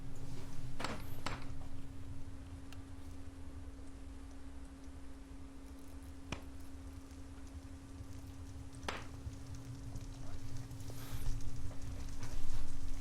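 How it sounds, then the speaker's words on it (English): Horse hooves clip-clop indoors on a hard floor, a few sharp, spaced knocks over a steady low hum and room noise, fairly close and with no talk. "you're bringing the horse in here"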